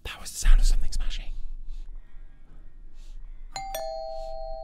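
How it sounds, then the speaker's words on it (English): Doorbell ringing in the horror video game Fears to Fathom: Home Alone, a clear two-tone chime near the end following muffled whispered voices and a rumbling thud at the start. "why are you ringing the doorbell?"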